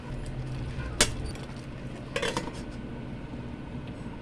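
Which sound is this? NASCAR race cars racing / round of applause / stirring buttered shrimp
stirring buttered shrimp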